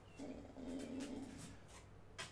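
A dog whines indoors during a livestream, a faint, drawn-out whimper that rises twice over about a second and fades under quiet room noise.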